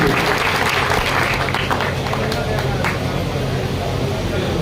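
Crowd applause at an oath-taking ceremony, welcoming the chairman onto the stage: continuous loud clapping from a large gathering, dense and steady over a noisy outdoor background, with voices mixed in.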